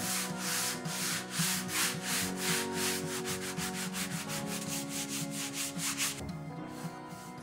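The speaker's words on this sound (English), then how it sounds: "I'm just gonna start gently sanding over." Rhythmic back-and-forth sanding along the grain of a wooden butcher block, steady strokes about twice per second, close and continuous, then a final softer stroke.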